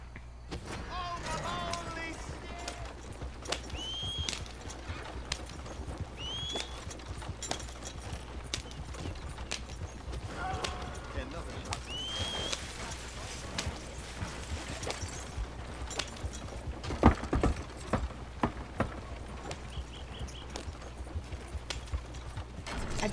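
Horse hooves clip-clop steadily in Red Dead Redemption 2, a moderate, even rhythm over low ambient background with occasional mechanical clicks and a brief louder knock near the end.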